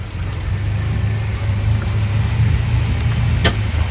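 A Mercruiser 7.4L 454 V8 inboard on a Sea Ray 268 boat rumbles steadily under light throttle, loud and close, with one faint sharp pop near the end.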